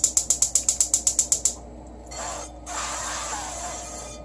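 A gas stove burner under a pan is lit, starting with about a dozen rapid, even igniter clicks, then a soft whoosh of flame and a steady, close hiss of burning gas, with no talking.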